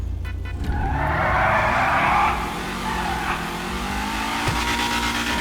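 Restored Ford Mustang in GTA 5 revving hard with a sustained tire skid and squeal, loud and close, easing into a steadier engine drone with a brief rev spike near the end.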